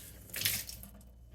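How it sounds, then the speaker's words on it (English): Tap water runs briefly over a container lid in a kitchen sink, a soft splashing rinse that swells in the middle and tapers off, fairly quiet and with no one talking. "Let me just rinse that lid off for a second."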